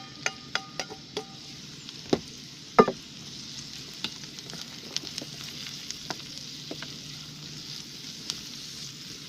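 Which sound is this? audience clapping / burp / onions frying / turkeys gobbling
onions frying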